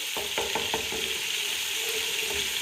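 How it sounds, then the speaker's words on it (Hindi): Garlic and ginger fry in a pan for mutton dum gosht, a steady close sizzle with a quick run of spatula scrapes and taps at the start, then continuous frying. "और 1/2 टेबल स्पून इसके अंदर चला जाएगा लहसुन। इसको भी मिक्स करेंगे"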